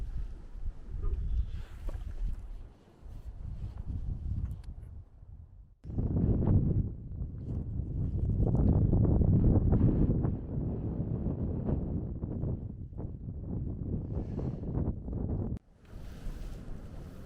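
Strong wind gusting at over 4000 metres in the Himalaya, loud buffeting rumble on the microphone that swells and drops in surges, with brief quieter gaps between blasts.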